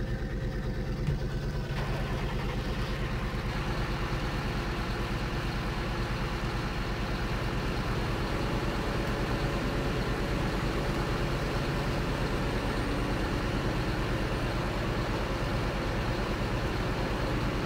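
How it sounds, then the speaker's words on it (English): A silage blower machine runs with a steady, droning mechanical hum in Farming Simulator 2013, with a constant engine-like tone that stays even and loud throughout. "the silage blower. Let's get that started again."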